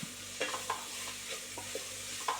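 Faint frying sizzle over low heat with soft clicks and scrapes of a spoon stirring vegetables, including beans, in a pan, no voices.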